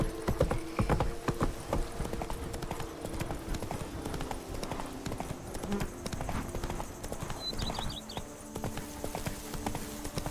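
Galloping horse hooves in the video game The Witcher 3: a steady, close clip-clop rhythm that runs throughout over game ambience, with a brief whinny.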